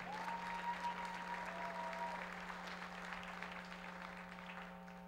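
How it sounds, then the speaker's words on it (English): An audience applauds at an award ceremony during a downtown Fresno event, steady clapping from a crowd in a hall with a low electrical hum underneath, tapering slightly toward the end. "Once again, a big round of applause."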